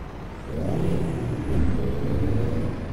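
A large double-decker Higer bus passes close by in Ecuador, its engine a loud, steady rumble that swells and holds with a faint high whine over the top, no talk heard.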